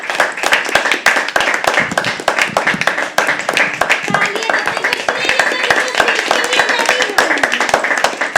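Dense audience applause for a poet at a live poetry open mic at The Habitat, steady rapid clapping filling the room throughout with a murmur of voices underneath.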